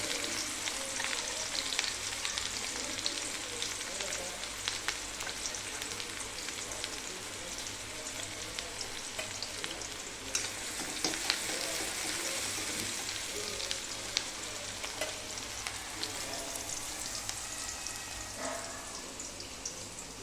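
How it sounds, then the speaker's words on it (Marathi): Onions with mustard seeds and cumin frying in oil, a steady close sizzle with faint stirring and spatters running throughout, no talking, and a low hum underneath. "कांदा पण चांगला तेलामध्ये लाल रंग येईपर्यंत परतून घ्यायचा आहे."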